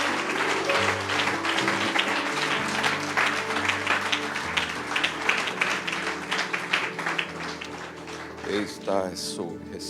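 A church congregation applauds for Jesus during a Portuguese-language service, the clapping dense and sustained over steady organ or keyboard tones, with a voice speaking near the end.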